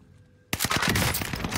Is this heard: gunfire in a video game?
yes